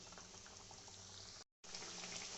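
Fish curry broth bubbles at a steady boil in a pot, a dense continuous hiss and fizz, close and even, broken by a brief silent gap.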